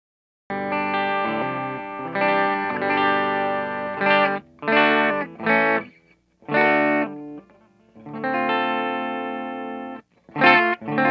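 Clean electric guitar recorded through a Shure SM57 microphone, playing sustained chords and phrases in separate bursts with short gaps, loud and close with no talking.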